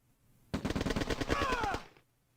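Rapid bursts of rifle infantry gunfire from the OpenRA Red Alert strategy game, a dense rattling volley of about two seconds, loud and close, with no talk over it.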